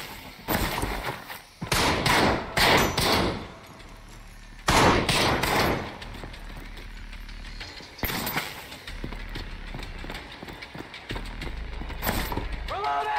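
Pistol and assault rifle gunfire in the video game Trepang 2, heard as several bursts of sharp, loud shots spread across the stretch, with quieter mechanical gaps between them and a voice talking over parts of it.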